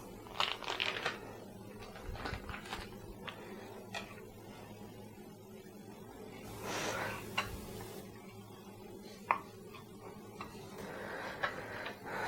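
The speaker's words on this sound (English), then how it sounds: "I'm just going to chop one piece of bacon into about 1/4 inch" A knife chops a piece of bacon into small quarter-inch pieces on a board, quiet, irregular clicks and taps with short pauses between bursts, no voices.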